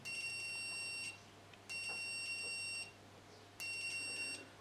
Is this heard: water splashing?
no